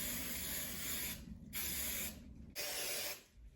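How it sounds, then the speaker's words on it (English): Hairspray misted onto curled gray hair in three long hissing bursts, each about a second, separated by brief pauses, close and fairly loud with no voices. "Spray it a little bit more so that it holds the curl."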